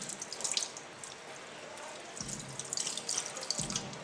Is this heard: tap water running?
yes